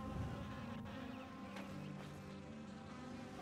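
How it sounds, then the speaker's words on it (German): A ruin in the video game The Elder Scrolls IV: Oblivion is filled with a constant insect-like buzzing hum that drones steadily under faint background sounds. "Wo kommt eigentlich diese Summen hier?"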